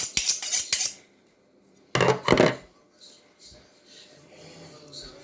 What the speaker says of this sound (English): This steel will not sharpen a knife, but it will keep a knife sharp.